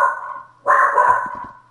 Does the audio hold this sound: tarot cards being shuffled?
no